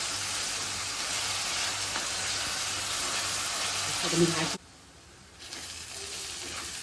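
Onion and tomato cook in a pan for chicken Kolhapuri with a steady, fairly loud sizzling hiss that cuts off abruptly near the end, leaving a quieter background.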